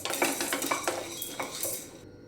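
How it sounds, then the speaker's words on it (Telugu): A utensil scrapes and clinks in a metal pan while sambar powder spices are stirred during dry-roasting, with several close, light scraping strokes in quick succession before stopping. "ఇలా కలుపుకుంటూ వేయించుకోవాలి"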